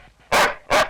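A dog barks twice close by, two loud, sharp woofs about half a second apart, with quiet between them.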